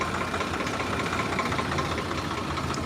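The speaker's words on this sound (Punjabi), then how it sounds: "23 ਮਾਡਲ ਟਰੈਕਟਰ ਹੈ ਬਈ 4x4 ਆ" A 2023-model 4x4 tractor engine idles steadily at a tractor market, a loud, constant low rumble with faint knocking and no talking.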